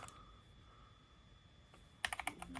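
Keys struck on a SteelSeries Apex Pro Gen 3 keyboard with OmniPoint 3.0 HyperMagnetic switches, a short quick burst of several close, crisp clicks arriving at the end after a quiet stretch.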